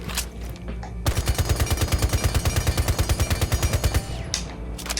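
Frost's gun fires in Rainbow Six Siege, a loud rapid burst of about three seconds of evenly spaced automatic shots, framed by softer game noise before and after.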